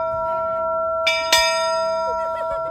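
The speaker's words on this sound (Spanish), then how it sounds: "Todo el mundo le está dando a la campanita así súper suavecito, tímidamente." The bell of love at Enoshima rings on with a lingering tone, then takes two more quick strikes that bloom into a bright shimmering ring, close by, with faint voices in the background.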